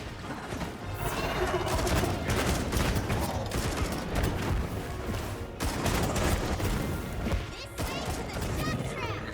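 Rapid-fire gunshots in Monster Hunter Wilds come as a dense, loud barrage of overlapping bursts and impacts, with game chaos layered in and a voice talking underneath.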